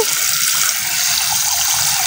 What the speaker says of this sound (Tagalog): Lagyan na natin ng tubig. Punuin kung pwede.